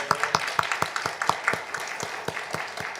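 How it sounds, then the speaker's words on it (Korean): Congregation clapping together at a church New Year's Eve worship service, a steady rhythmic run of roughly a dozen evenly spaced claps, fairly close and clear, with no talking over it. "2022년 한 해 동안도 지키시고 보호하신 좋으신 아버지 하나님께 먼저 감사와 영광의 박수 올려드립니다."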